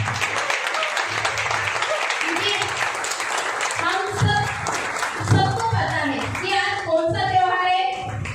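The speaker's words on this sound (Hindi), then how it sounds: "एक बार खुद हम सब अपने लिए तालियां बजाएंगे" An audience claps for themselves at a gathering, steady applause running throughout at moderate volume, with speech and a voice rising over it in the second half.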